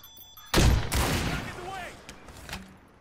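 A sudden loud burst of gunfire erupts in a shooter video game, then settles into a rolling rumble with a few fainter later shots while a voice talks faintly over it.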